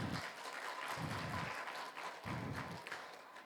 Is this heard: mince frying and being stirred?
no